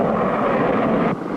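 An airplane in the Clutch Cargo cartoon flies with a steady, loud, broadband engine roar that fills the clip and drops slightly near the end.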